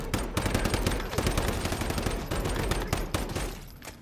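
Rapid automatic gunfire from the video game Once Human rattles out in dense, continuous bursts with brief gaps, loud and close throughout, with no talking.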